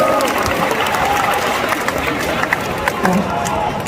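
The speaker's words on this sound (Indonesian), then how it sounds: "Kasih tepuk tangan dulu dong untuk Bapak yang lagi ide" Clapping and crowd noise rise at a charity auction during a religious Maulid gathering of an Indonesian community in South Korea, mixed with chatter and scattered cheers as people talk throughout.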